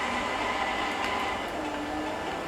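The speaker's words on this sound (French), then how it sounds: "Voilà, donc il est dans le métro, faut qu'on arrête le métro." Subway train rumbling steadily through a tunnel in the Watch Dogs video game, a continuous loud broadband roar with faint rail clatter, no voices.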